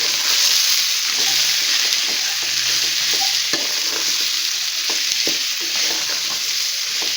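Jackfruit biryani mixture stirred in a hot pan, a steady bright sizzle with repeated scraping strokes of the spoon, close and continuous with no talking.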